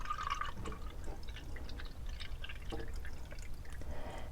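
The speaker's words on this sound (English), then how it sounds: "We're going to pour 1 cup of water" Water pours into a measuring cup in a quiet kitchen, a soft, continuous trickle with light dripping and splashing, faint and close, with no talk.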